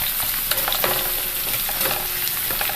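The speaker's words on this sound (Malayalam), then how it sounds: "ഇതിൻ്റെ പച്ചപ്പ് മാറുന്നവരെ ഒന്ന് നന്നായിട്ട് വഴറ്റിയെടുക്കണം." Ginger sautéing in a pan for a pickle gives a steady close sizzle under a few light scraping stirs, with no voices.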